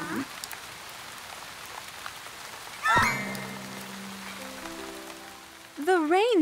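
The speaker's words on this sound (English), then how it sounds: "The rain's getting their drawings wet." Cartoon rain falls steadily as a soft patter on drawings, with a sharp chime-like accent near the middle and a bright, wavering cartoon voice or effect near the end.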